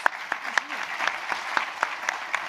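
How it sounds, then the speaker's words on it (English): Audience applause for panelists at a UN World Oceans Day event: sparse, evenly spaced sharp claps from a small crowd, moderately loud and close, with a soft wash of further clapping between them. "Let's hear a round of applause for our panelists."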